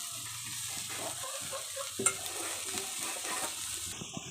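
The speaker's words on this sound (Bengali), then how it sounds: "মিনিট খানেকের জন্য এই গুঁড়ো মাছ আর মূলা আলু একসঙ্গে সেদ্ধ হতে দেয়" Small fish, radish and potato bubble and sizzle together in a pan on the stove. The sizzle is steady and close, with soft stirring scrapes and no voices.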